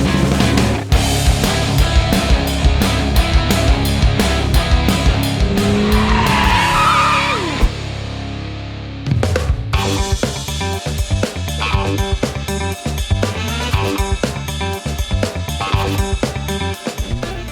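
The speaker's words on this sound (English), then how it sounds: "this is my 68 Volkswagen Dune buggy" A custom 1968 Volkswagen dune buggy drives hard nearby, its engine roaring loud with revving bursts, tire squeals and skids, a brief drop-off midway before the rough, rattling engine noise resumes.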